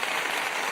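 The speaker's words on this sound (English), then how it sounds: "But yes, so applause." A brief burst of dense applause from an audience, steady broadband clapping heard alone and fairly close for under a second.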